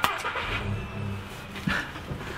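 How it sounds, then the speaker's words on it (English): A car engine starts and settles into a steady mid-pitched running hum, with a brief rise partway through, heard alone at moderate volume. "starting a car."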